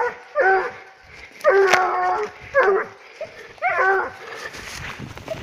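A griffon nivernais hound on a leash bays while tracking, giving four close, loud bursts of deep, ringing barks separated by short pauses, with faint voices nearby.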